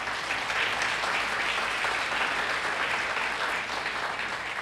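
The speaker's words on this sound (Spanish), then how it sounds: "Demos un fuerte aplauso al Señor." A church congregation claps in a strong, continuous round of applause during a Spanish-language Christian service, steady and dense from start to finish with no voices on top.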